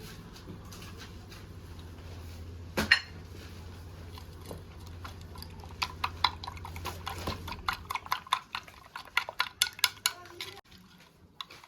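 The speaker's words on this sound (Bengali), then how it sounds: "তো এই যে ডিমটা আমার ভালোভাবে ফেটানো হয়ে গেছে।" Beaten egg seasoned with pepper and salt is whisked in a bowl: rapid, irregular clinking and tapping strokes that grow quicker and louder toward the end, over a low background hum.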